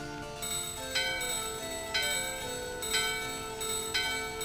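A bell rings at a door in Final Fantasy IX, struck about four times at roughly one-second intervals, each strike leaving a bright, ringing metallic tone that sustains and overlaps the next, close and alone without talk.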